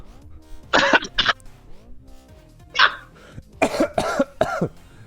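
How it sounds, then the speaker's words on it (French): Several sharp coughs in short bursts, a pair early, one alone, then a cluster of three, close and loud. "Je l'ai fait tousser."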